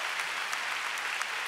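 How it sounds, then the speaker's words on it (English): A church congregation claps together in sustained, even applause, steady and fairly distant with no talk over it. "go ahead and give the Lord a big clap"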